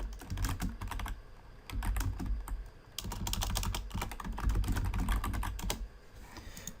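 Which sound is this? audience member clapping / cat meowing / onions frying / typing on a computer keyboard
typing on a computer keyboard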